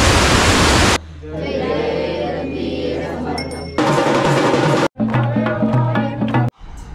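Mandale Waterfall in Konkan running high with heavy water flow, a loud steady broadband roar that cuts in and out in several abrupt segments, with clinking tones layered over parts of it.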